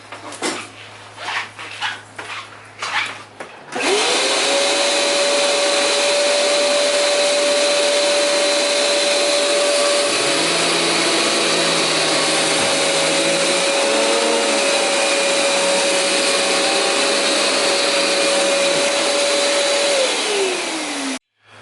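A Riccar Radiance R40 upright vacuum cleaner motor whines loudly and steadily for a long stretch, with a second lower motor tone joining partway, after a few opening knocks.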